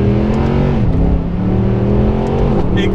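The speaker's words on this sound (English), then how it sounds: "to drive this car today, the SLS AMG Black Series from DTM Sports Cars" Mercedes SLS AMG Black Series engine revving: a loud, close, sustained engine note with rising and falling pitch over a few seconds and a harmonic-rich roar.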